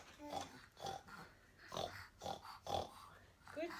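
A voice imitates a pig for a farm-animal finger play, giving a series of about six short snorting oinks in a steady rhythm, close but quiet.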